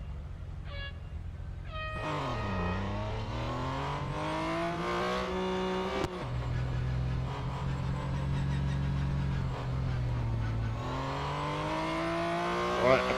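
A BMW M Hybrid V8 race car engine in a racing video game screams at high revs, pitch rising and falling through gear changes and a sharp shift midway, sustained and loud throughout.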